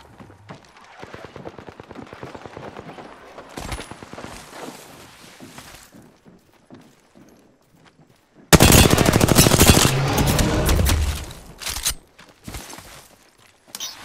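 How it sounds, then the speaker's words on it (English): Automatic weapons fire in an Apex Legends match, with light taps and footsteps leading into a loud, dense burst of rapid shots that lasts a few seconds before easing off. "They spotted me. I'm taking shots."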